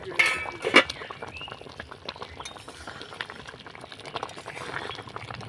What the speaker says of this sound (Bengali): আমটাকে সিদ্ধ করে নিয়েছি ঢাকা চাপা দিয়ে